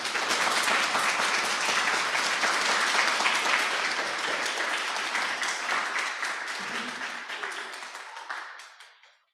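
Audience applause after a poetry reading, dense and fairly loud clapping that holds steady, then thins and fades out toward the end.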